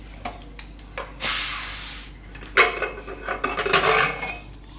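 Pressure cooker of boiled chickpeas being opened: metallic clanks of the lid and pot, a sharp hiss of released steam, then further clattering and rushing steam close by, with no talk.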